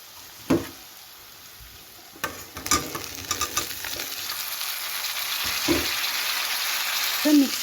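Cauliflower and potato pieces frying in a pan with golden onions, stirred with scattered scraping clatters over a steady soft sizzle that builds toward the end, close and moderately loud.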